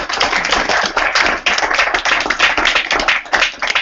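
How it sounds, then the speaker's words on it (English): A meetup audience gives a presenter a round of applause after a developer talk, dense close clapping that carries on steadily for a few seconds with a brief dip partway. "Can we get a round of applause for Eric?"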